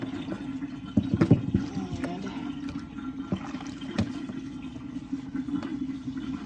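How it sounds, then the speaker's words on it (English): Hot water drains out of a white kitchen sink with a steady gurgling rush and irregular splashy knocks, close and continuous. "Just gonna let that water out."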